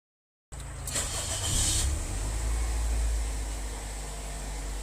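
A car engine fires up right after a new starter relay is fitted: a brief cranking burst, then it settles into a steady, close idle rumble, with no talk over it.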